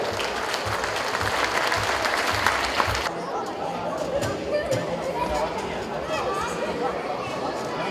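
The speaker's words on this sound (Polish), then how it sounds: "Wielkie brawa!" Applause at a youth football club gala, loud, dense clapping from a hall audience that cuts off sharply partway through, leaving crowd chatter and murmuring.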